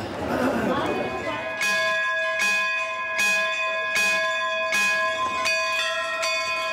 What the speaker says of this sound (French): Ces cloches doivent sonner fort et loin pour colporter de bons présages